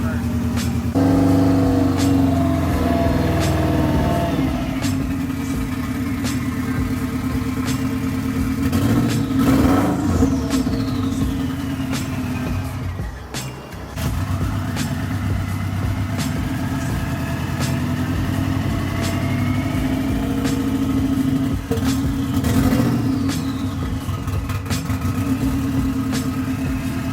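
A car engine runs loudly with its exhaust disconnected, a steady rough drone with occasional rises in revs, while coolant burns off; people talk over it now and then.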